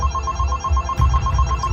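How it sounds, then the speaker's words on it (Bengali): A telephone rings in steady repeated bursts, loud and close, set against a low rumbling background with no voices, used as a sound effect in a Kolkata murder story. "তাই দীপঙ্করবাবু দ্রুত দমদম থানায় ফোন করেন"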